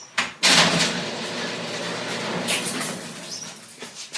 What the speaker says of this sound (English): Okay, close the door. Close the door.